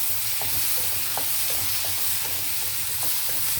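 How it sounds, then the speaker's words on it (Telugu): Tomato frying with softened onions in a pan for green peas pulao, a steady close sizzle with soft stirring scrapes and occasional light clicks, no talking. "నేను ఇందులో టమాటా యాడ్ చేస్తున్నాను."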